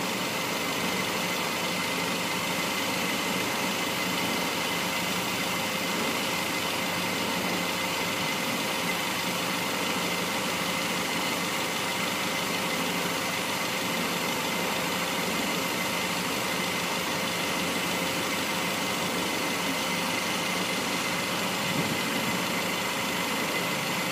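A 2001 Chrysler PT Cruiser with a 2.4-litre engine running at a steady idle, an even, continuous hum with a light vibrating buzz that holds unchanged throughout, with no voices.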